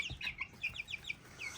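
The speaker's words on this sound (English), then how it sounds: "I think they're kind of like both peeping and clucking." A chicken makes a quick series of soft, high peeps mixed with low clucks, fairly quiet and close, with no talking.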